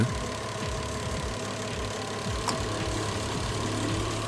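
A just-started Subaru Tribeca 3.6 engine idles steadily and close by, a continuous even mechanical hum with a faint periodic ticking, no voices over it.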